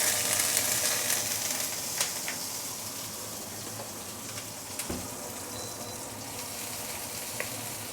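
Shallots frying in hot oil in a pan, a steady close sizzle with soft crackles and a few light clicks from a utensil, alone without talk.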